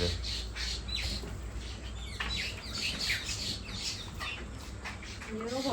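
A peacock gives repeated loud, sharp squawking calls outdoors, several in a row over a steady background hum, with some voices faintly present.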